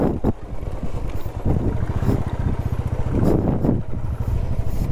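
A Royal Enfield Bullet motorcycle climbs uphill on a rough off-road track, its engine thumping and pulling hard under gusty wind buffeting the microphone, close and loud.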